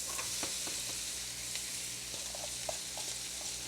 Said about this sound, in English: we're going to put our onions and our mushrooms in the skillet and fry those up